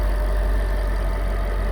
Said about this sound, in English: So the intake sounds really cool. You get a lot of supercharger whine.